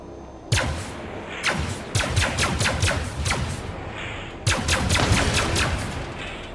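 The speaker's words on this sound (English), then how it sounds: "go ahead and give me a quick test fire" Ship weapons in Star Citizen test-fire in loud, rapid bursts, rattling strings of cracks separated by short pauses, close and dominant with no talk over them.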